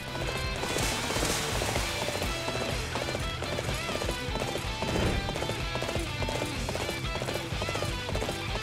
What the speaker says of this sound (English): Riding a really slow horse to battle.